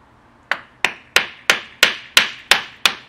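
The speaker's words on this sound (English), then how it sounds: "You're going to hammer it in" Eight sharp metallic strikes of a hammer on a screwdriver, removing a window strip from a concrete block wall, land at a steady, even pace, close and loud, each ringing briefly before the next blow.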